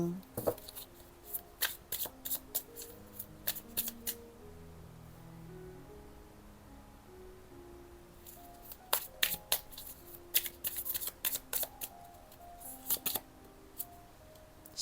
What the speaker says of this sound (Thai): เรามาดูไพ่ออร์เคิลกันอีกนิดนึง